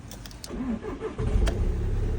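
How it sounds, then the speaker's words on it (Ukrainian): A car engine cold-starts after sitting for about a week: a brief cranking whir, then it catches and settles into a loud, steady close-up idle, with no talk over it. "Зараз навіть спробуємо холодний старт."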